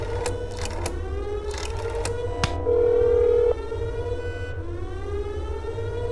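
A telephone ringing tone from the horror game That's Not My Neighbor: one steady electronic tone lasting under a second, set against a continuous game music backdrop.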